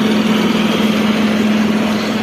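A new tractor engine idles steadily nearby, a constant low drone with an even throb and no voices.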